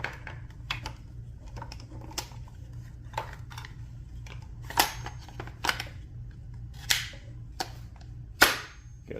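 Light metallic taps and clicks sound as a pin is tapped into a Springfield Hellion rifle, a series of irregular sharp knocks that grow slightly louder toward the end over a low background hum.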